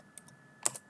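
Keystrokes on a computer keyboard while entering a value in Siemens TIA Portal V17 PLC software: a couple of soft, isolated clicks, then a louder close cluster of taps near the end, with no talking.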